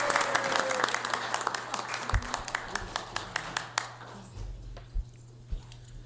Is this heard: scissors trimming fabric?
no